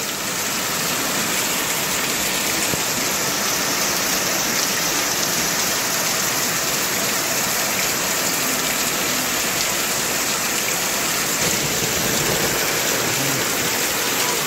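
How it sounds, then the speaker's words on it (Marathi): Heavy first rain of the season pours down outside a window: a dense, loud, unbroken roar of rainfall drumming on surfaces, constant from start to finish, with no talking. "पहिल्या पावसाची पहिली मजा काय वेगळीच असतं"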